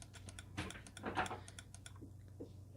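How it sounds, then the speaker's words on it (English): Right button of a Logitech G305 wireless gaming mouse pressed several times, each press a crisp, close click. The clicks come in an uneven run over a faint low hum, with nobody speaking. "Here's how the right mouse button sounds."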